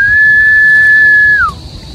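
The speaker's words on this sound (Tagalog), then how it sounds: "May tono pa ang sipol mo." A person at a fishpond whistles one long steady close tone to call milkfish, ending with a quick downward slide.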